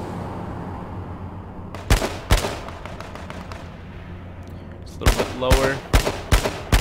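Gunshots in the H1Z1 Battle Royale video game: sharp, loud single cracks, a pair early on and then a quicker cluster of several shots near the end, with someone briefly speaking between them.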